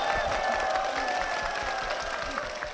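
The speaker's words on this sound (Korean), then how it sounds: "많은 성도님들의 박수 함성으로 시작을 했습니다" A church congregation applauds and cheers in a dense, continuous wash of clapping, with sustained tonal sound and voices running underneath throughout.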